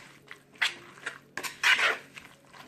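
Metal spoon stirring beaten eggs and clinking against the side of a bowl, a few light, sharp taps and scrapes spaced irregularly, close and fairly quiet, with no talking.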